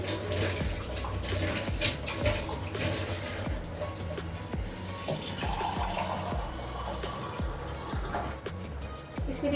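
Water is poured into a cooking pot in an Indian home kitchen while saag is made, a loud, continuous splashing gush that runs unbroken for about ten seconds.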